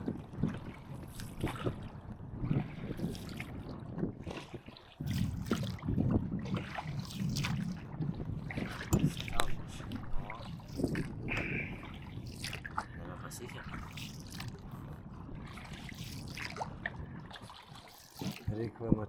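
A small boat moves across a windy lake on a fishing outing, with water trickling and lapping against the hull over a low rumble, while people talk throughout.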